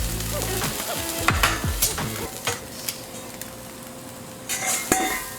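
Eggs fry on a restaurant flat-top grill with a steady, close sizzle, broken by metallic scrapes and clinks from a spatula and a brief hiss as ice goes onto the hot surface.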